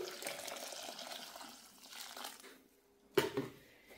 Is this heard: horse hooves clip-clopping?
no